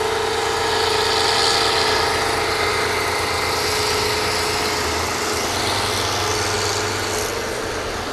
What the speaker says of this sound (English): We're drilling.